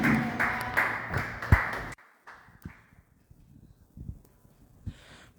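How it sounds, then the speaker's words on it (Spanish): Applause from a congregation at a live church worship service, loud at first and then cutting off abruptly into near quiet, with a few faint scattered claps and soft sounds afterward. "Fuerte el aplauso al Rey"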